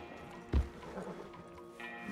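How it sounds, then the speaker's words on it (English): A horse in the Red Dead Redemption 2 video game gives a single soft hoof clop or snort, faint and brief, within a quiet ambient game scene. "Marston, you're gonna tether him up to Javier's horse"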